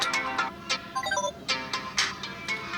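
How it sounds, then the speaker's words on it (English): A Samsung Galaxy A34 5G plays its Planet ringtone, a bright, repeating electronic melody of pulsing tones, heard clearly and alone. "I have selected this planet, and this is the ringtone now."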